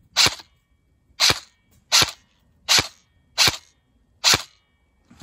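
Airsoft gun fitted with a custom long hop-up, six sharp shots fired alone at a steady pace of roughly one every 0.7 seconds, crisp and close.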